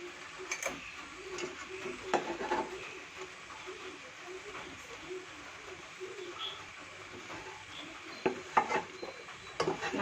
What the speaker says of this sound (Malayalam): നല്ലതായിട്ട് ഇളക്കി യോജിപ്പിക്കണം